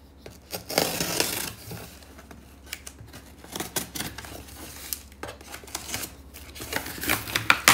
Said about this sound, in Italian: apriamo subito questa scatola e vediamo il suo contenuto